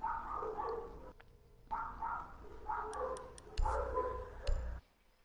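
Barking from several dogs in a Rainbow Six Siege ranked match, coming in short repeated bursts that stop and start across the clip, loud and close, with no talking over them.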